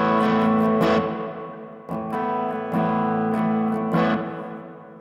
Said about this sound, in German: Dann haben wir hier eine Spring, einen Federhall.